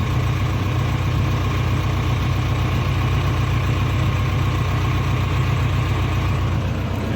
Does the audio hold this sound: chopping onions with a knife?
no